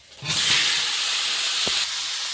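Whole cumin seeds dropped into hot oil in a wok: a sudden loud, steady sizzle and hiss rising after a short quiet start, with a small clink partway through, close and alone.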